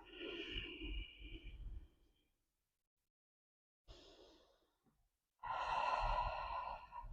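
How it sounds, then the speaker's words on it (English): A person breathes slowly and deeply while holding a hamstring and shoulder yoga stretch. A long audible exhale is followed by a pause of silence, then another inhale and a full, close exhale. "Let's hold it here for 5 deep breaths."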